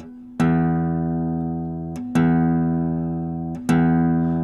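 Three plucks of the same guitar string about every one and a half seconds, each ringing and fading while the pitch is checked against a tuner app; close, steady, no voices.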